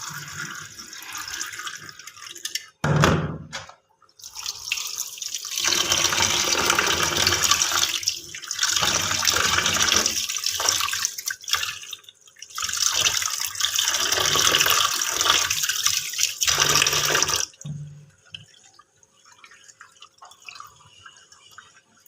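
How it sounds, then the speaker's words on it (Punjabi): Yellow moong lentils washed with water, with long bursts of running, splashing water separated by short quiet pauses, then a quieter trickle near the end. "ਚੰਗੀ ਤਰ੍ਹਾਂ ਧੋ ਲਾਂਗੇ ਇਹਨਾਂ ਦੋ ਤਿੰਨ ਵਾਰੀ ਪਾਣੀ ਨਾਲ"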